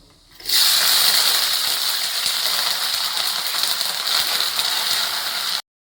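Green chilies and curry leaves drop into hot oil and sizzle loudly, a sudden burst of crackling and spitting that stays steady and close for several seconds before cutting off.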